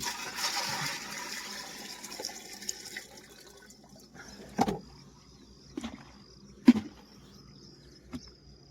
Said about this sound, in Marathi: आपण हे पाणी काढून टाकूया